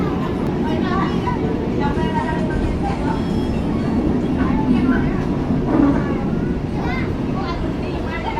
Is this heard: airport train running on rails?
yes